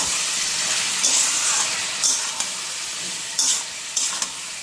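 Spices fry in a pan, giving a continuous close sizzle and hiss. A few brief stirring scrapes and clinks cut through at intervals.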